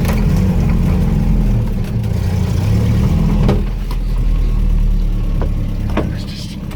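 A 1980 Land Rover Series 3 109 climbing a hill in low range, its engine droning steadily and loud close by with a deep, continuous rumble and slight shifts in load.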